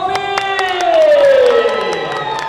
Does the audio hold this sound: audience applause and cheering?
yes